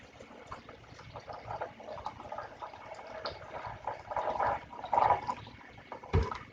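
Water pours into a container in uneven gurgling bursts, 32 ounces measured for making almond milk, growing a little louder toward the end, with a brief knock near the finish.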